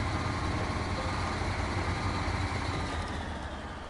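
A truck engine idles in the SnowRunner video game, a loud, steady low rumble with a faint rhythmic chug that holds throughout and eases slightly at the end.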